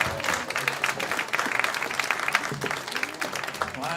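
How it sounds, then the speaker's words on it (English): Audience applauding after a band's set at a venue, moderately loud clapping from a modest crowd with distinct individual claps and faint voices mixed in beneath. "All right, let's give another round of applause."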